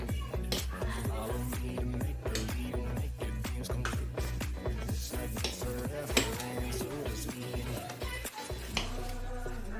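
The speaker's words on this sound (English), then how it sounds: "I have to cut just a little butter inside because of the fat." A knife cuts butter into a pot for Nigerian jollof rice, making a steady, rapid run of close, light knocks and taps against the cookware, with faint kitchen clatter throughout.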